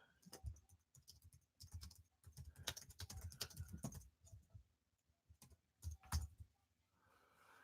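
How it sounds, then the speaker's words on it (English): Someone types a message on a computer keyboard in a quiet room, with quick bursts of close key clicks separated by short pauses and a few sharper, louder taps. "I'm just typing a message."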